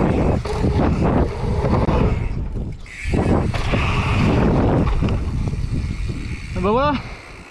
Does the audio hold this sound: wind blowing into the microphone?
yes